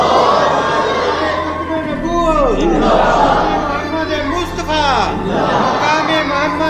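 Large religious gathering answering a Takbir chant, a loud crowd of many voices shouting together in waves, with rising and falling calls and general crowd noise throughout.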